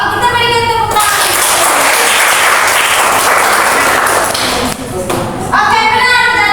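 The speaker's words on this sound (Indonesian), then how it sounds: "Oke, kita berikan tepuk tangan" A classroom of students bursts into loud, dense applause that runs for several seconds and dips briefly near the end, with voices speaking before and after.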